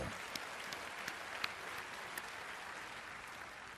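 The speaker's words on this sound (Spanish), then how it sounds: "Démosle un fuerte aplauso" Congregation at an Easter church service clapping in applause, a steady wash of many hands with a few sharper claps standing out, heard from a distance and fairly faint.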